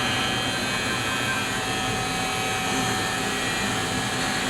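A gas burner jet fires inside a Modeno Fire brick oven built on a heavy steel frame, producing a loud, steady roaring rush that holds evenly throughout.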